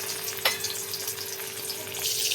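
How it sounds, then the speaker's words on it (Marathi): Oil sizzles steadily in a kadhai as tempering spices fry for a home-style leafy vegetable dish, a continuous close crackle with a small sharp pop near the start. "कढाईमध्ये तेल टाकून असं तंबाला टाकून घेतलं बघा"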